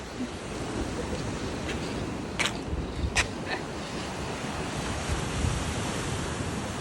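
Sea waves roll and wash continuously, heard from a house terrace in Lakshadweep, as a broad steady surf roar with wind buffeting the microphone and a few faint clicks, with no talking.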